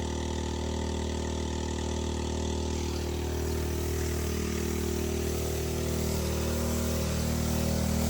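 A Cheap Shot soft-wash sprayer runs outdoors during a distance spray test for house, roof and concrete cleaning, its pump motor droning steadily and loudly throughout, with a slight rise toward the end.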